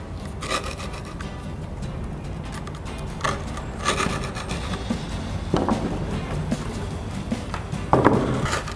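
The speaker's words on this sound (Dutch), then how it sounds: "Vervolgens ga je de gaatjes prikken met je schroevendraaier." A screwdriver twists and pokes holes through skateboard grip tape on a wooden deck, making repeated close, rough rubbing and rasping scrapes in short bursts, with no talking.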